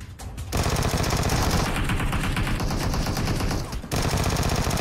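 Sustained rapid automatic gunfire in PUBG Mobile, loud and dense bursts running for several seconds after a short lead-in, then cutting off abruptly near the end.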